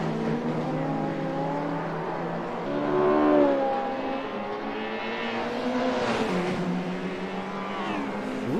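Race cars lapping the Nordschleife in a sim-racing series, engines droning and revving loudly as they pass, with pitch sweeping up and down through gear changes.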